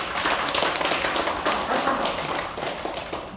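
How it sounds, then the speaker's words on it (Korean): Audience at a nonprofit association's founding general meeting applauds the chairman: a steady, dense wash of many hands clapping at once, even and sustained throughout with no voices standing out. "우리 저 주남식 회장에서 박수 한번 좀 쳐주세요"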